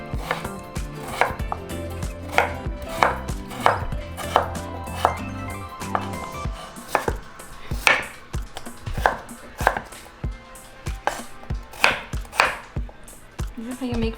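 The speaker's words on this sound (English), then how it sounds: "now I'm just going to cut my potatoes into small cubes" A knife chops potatoes into small cubes on a board, a run of crisp, close thuds at an even pace, then quicker, more irregular knocks in the later part, with no one speaking.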